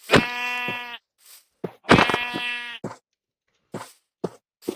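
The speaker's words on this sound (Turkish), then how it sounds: "Abi koyunu öldürüyorum." Two loud, drawn-out sheep bleats with a synthetic game-like quality from Minecraft, followed by short clicking and tapping sounds.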